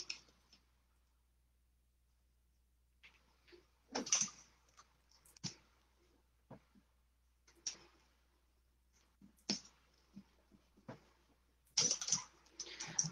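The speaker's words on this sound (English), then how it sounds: "I'm going to again take my tape and start taping this stuff up." Clear tape is pulled from the roll and pressed onto a light-up shadow box, heard as scattered short crackling rips and taps, near and quiet, with longer bursts of tape unrolling.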